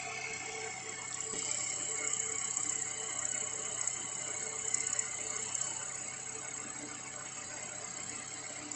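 A milling machine cutting 12mm slots in a metal cylinder, a steady mechanical hum with a faint grinding texture throughout, moderately close.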